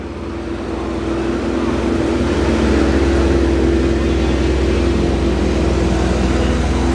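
Ferrari cars of different ages move out from the assembly area at Oulton Park circuit, a loud, steady engine drone building at the start and holding as a continuous close roar.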